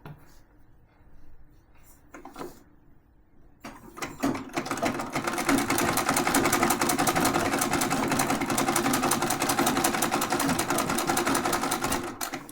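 An old sewing machine stitching a quilt starts after a few quiet seconds of fabric handling, then runs in a steady, loud, rapid mechanical chatter for about eight seconds, close by and with no talk.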